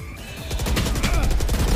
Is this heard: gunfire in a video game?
yes